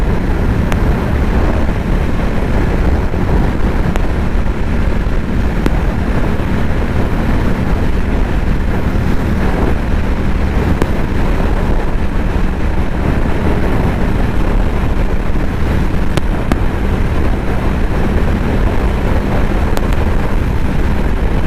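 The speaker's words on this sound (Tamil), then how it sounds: "சரியான ஒரு காத்தடி காய்ஸ். நம்மளையே தள்ளிட்டு போயிடும் போல." A loud, unbroken roar of strong wind buffets the microphone throughout, mixed with a low engine rumble, while riding fast on a Harley-Davidson X440 motorcycle.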